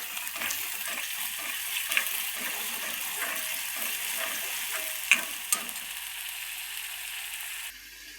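Food frying in hot oil, a steady, even sizzle that holds at a constant level for about eight seconds, with a few small pops and clinks from the pan before it quietly cuts off.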